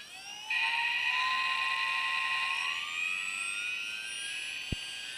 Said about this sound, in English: I'll run it up and there's only a slight vibration about 3/4 throttle and then it's moved out